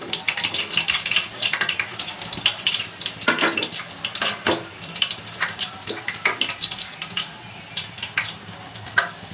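Chicken garelu fry in hot oil as a busy crackling sizzle with bursts of popping and spatter, fairly close and uneven in rhythm, with no voices over it.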